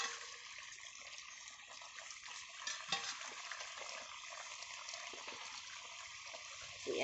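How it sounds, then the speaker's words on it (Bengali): A spoonful of ghee goes into a simmering jhinge posto, ridge gourd in poppy seed paste, giving a steady, close, wet sizzling hiss with a brief louder burst partway through and no talking. "এই 1 চামচ ঘি দিয়ে দিলাম।"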